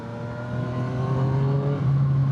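A remapped Yamaha MT-09 motorcycle engine accelerating hard, its loud, close, buzzing harmonic drone climbing in pitch over a couple of seconds with no talk.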